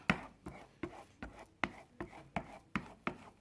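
A spatula scraping scrambled egg made with plenty of cheese around a frying pan, in eight or nine regular, close strokes about every 0.4 seconds, each one a short, crisp scrape with no voices.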